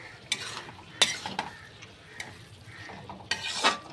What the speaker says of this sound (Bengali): সব শেষে 1/2 চামচ গরম মশলার গুঁড়ো ছড়িয়ে দিচ্ছি ওপর থেকে, একটু মিশিয়ে দিচ্ছি।